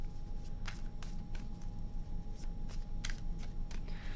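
Tarot cards being shuffled in a quiet room, a few soft riffling bursts spaced across the moment, faint and close.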